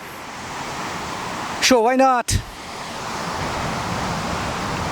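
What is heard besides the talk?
Runchet Khola waterfall, flowing water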